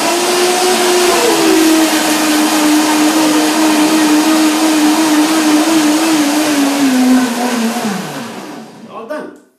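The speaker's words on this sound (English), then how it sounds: "cut into small ringlets because then the blender has no problem at all to get a nice liquid" A kitchen blender purees ripe banana rings into liquid with a loud, steady motor whir and churning for about eight seconds, then the motor winds down and stops.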